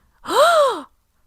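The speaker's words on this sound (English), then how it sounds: "Everybody gasped." A single breathy, voiced gasp that rises and falls in pitch, heard alone against silence.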